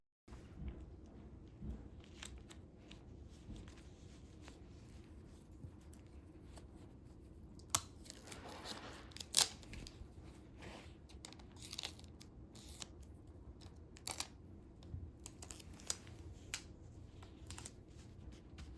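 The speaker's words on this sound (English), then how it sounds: "And then we're gonna cut out the little square." Scissors snip through paper to cut out a small square for a sweatshirt craft, producing sparse, close, crisp clicks and crunches against a quiet room hiss.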